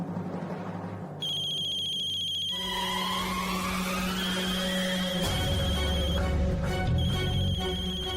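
A telephone rings with an incoming call from an unknown landline number, a steady electronic ringtone with repeating tonal pulses filling the room, loud and close, with no talking over it.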